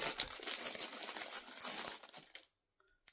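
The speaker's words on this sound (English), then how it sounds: "Sorry for the crinkling." Plastic packaging crinkles loudly and close for about two seconds, a dense rustling that fades out into near silence with a faint tap at the end.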